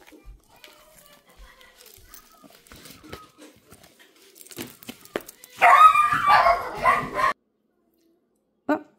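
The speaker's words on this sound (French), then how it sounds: "Les chiens se sont mis à japper." Dogs yap and bark in a noisy household, with a loud burst of excited barking and yips mixed with children's shouting and voices, after quieter scattered sounds, then a sudden cutoff and one last short sound.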